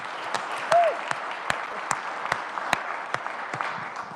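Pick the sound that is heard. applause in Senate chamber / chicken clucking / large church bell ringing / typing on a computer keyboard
applause in Senate chamber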